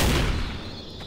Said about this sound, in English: there's all this gunfire going on